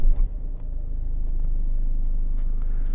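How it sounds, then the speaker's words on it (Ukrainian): A 2016 Citroen C4 Picasso 1.6 HDI diesel with automatic gearbox fires up after a brief starter crank, then settles into a steady, low idle rumble heard close by. "Нажимаємо тормоз, запускаємо."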